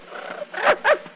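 A dog barks twice in quick succession, sharp, close yaps over a thin, hissy early acoustic recording from 1905.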